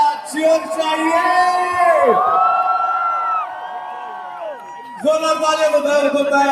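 A crowd at a music album launch event for Dhurandhar The Revenge cheers, whoops and shouts loudly. Drawn-out vocal cries rise and fall, fade briefly midway, then surge back.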